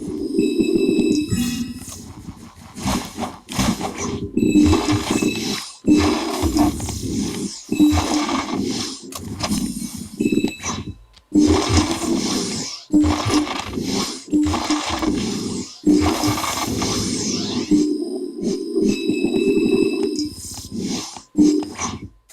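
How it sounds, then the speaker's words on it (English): Buzzy, rumbling electronic tones from a PlayStation 5 DualSense controller speaker and haptics, with choppy bursts and brief gaps, like a small speaker mixed with vibration hum, continuing throughout without voices. "what you are hearing there is the DualSense speaker, but also the haptics converted into sound"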